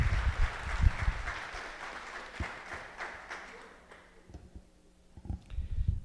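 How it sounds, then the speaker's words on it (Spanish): Audience applause at a presentation of the novel "Los Aparecidos", a dense burst of clapping at the start that thins and fades toward the middle before picking up again briefly at the end. "Un aplauso, por favor."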